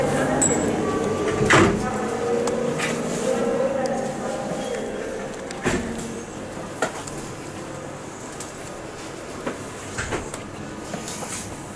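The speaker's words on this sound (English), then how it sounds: "The guard releases the doors and we board." Sliding passenger doors on a Class 319 electric train at a station, with a couple of sharp knocks and thuds over steady platform and carriage noise, voices murmuring nearby.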